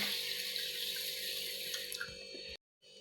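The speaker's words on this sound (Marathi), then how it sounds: "त्यामध्ये 1 तांब्याभर पाणी मी घालून घेणार आहे" Water pours steadily into a bowl of moth beans close by, a continuous rushing splash that stops abruptly near the end.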